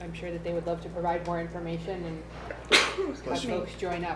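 A single sharp sneeze bursts out midway through a public town board meeting, loud and close, while someone speaks steadily before and after it.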